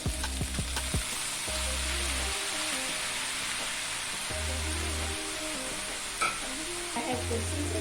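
300 grams of sliced cabbage stir-fries in a wok for hawker-style fried Hokkien mee, a steady close sizzle with a low hum and occasional clanks of a utensil, no talk.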